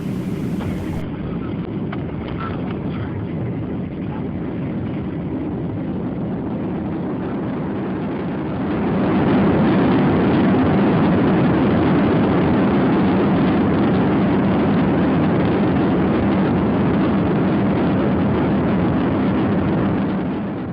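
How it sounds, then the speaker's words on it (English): Loud, steady jet engine roar inside a cabin that swells suddenly into a heavier rumbling surge and holds, like thrust reversers on landing. "I always like it when they reverse the engines"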